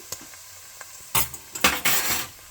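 Whole spices, including cloves, quietly sizzle in a pot with a few scraping stirs and light metallic clinks from a spoon, louder bursts of frying in the second half.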